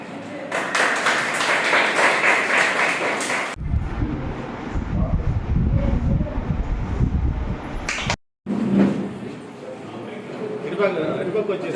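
An audience claps at a sewing-machine training class event for women in Nellore, a dense patter of hands in the opening seconds, with someone talking over and after it.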